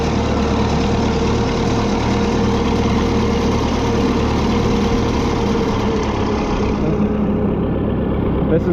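A diesel engine runs steadily up close, loud and rumbling with a rhythmic knocking throb throughout, and a voice speaks over it.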